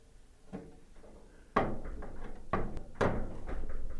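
The top panel of a Samsung dryer that is not heating being lifted like a car hood, with a series of hollow metallic clunks and bumps, close by and fairly loud, no speech.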